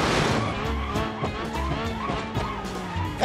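Tyres screeching under hard braking in a car crash simulator game with a Lamborghini, a wavering, rising and falling squeal mixed with engine roar, loud and close, lasting several seconds.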